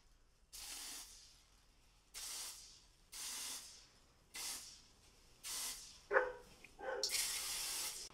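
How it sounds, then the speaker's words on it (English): Several short bursts of hairspray hiss from an aerosol can, close up, separated by brief pauses, the last one longer. "I take hairspray because I like it a little bit more messy"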